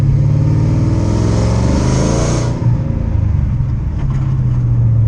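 A supercharged 4.6L three-valve V8 in a Mustang GT S197 with an Edelbrock supercharger and 80-pound injectors revs loudly and close, holding a steady roar that eases off and then settles back into a strong idle.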